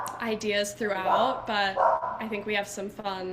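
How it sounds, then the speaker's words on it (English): A neighbor's dog barks in the background, its yips and woofs mixed under steady close conversational speech throughout. "Apologies if you can hear my neighbor's dog barking in the background."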